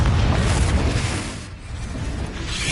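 A Confringo spell blast in Hogwarts Legacy rolls out as a loud, dense, rumbling roar that holds steady, dips briefly partway, then swells again.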